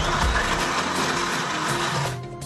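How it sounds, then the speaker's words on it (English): A kitchen blender whirs loudly as it chops coriander, green chilies, garlic cloves, salt and white vinegar, running steadily for about two seconds before winding down. "She puts chopped coriander, a couple of green chilies and garlic cloves into a blender with salt and vinegar."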